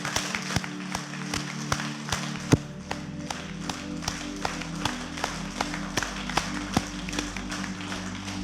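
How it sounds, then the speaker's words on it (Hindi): An audience claps loudly and steadily at a self-realization talk, with a rhythmic, unison beat that stays even throughout, and no voices over it. "अपने लिए जोरदार तालियां"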